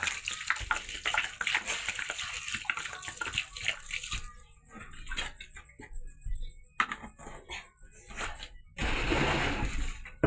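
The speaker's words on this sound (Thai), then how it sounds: "หลังจากเอาน้ำเกลือแล้วเราก็เอาน้ำธรรมดา" Food being rinsed under plain running water after a salt-water wash, with steady splashing and gushing that eases midway and then surges again at the end. No one speaks.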